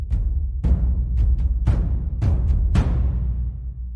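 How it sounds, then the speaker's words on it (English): A large taiko drum ensemble from the Action Strikes library pounds out a series of heavy, booming hits at uneven intervals, each with a sharp attack and a long reverberant tail, loud and with no voices. "I'm using the taiko massive ensembles"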